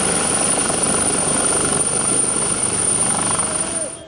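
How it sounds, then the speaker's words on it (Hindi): A helicopter arrives carrying a political leader on a visit to Sindh, its rotor and engine roaring loud and steady throughout before easing slightly at the end. "बिलावल भुट्टो जरदारी का दौरा सिंध, हेलीकॉप्टर में 7 शरीफ पहुंचे।"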